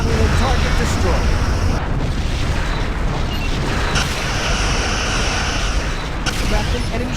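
A destroyed Romulan starship explodes in a Star Trek Legacy space battle, a loud continuous roaring blast with sharp bursts flaring near the start and again midway, heavy rumble throughout, with speech during the battle.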